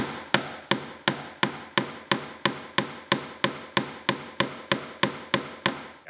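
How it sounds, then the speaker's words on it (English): A hammer strikes a nail head again and again in a steady, even rhythm, around sixteen sharp, close metallic taps that each ring out briefly before the next, heard alone in a quiet room. "we want to hit this nail head over and over in the center of the hammer"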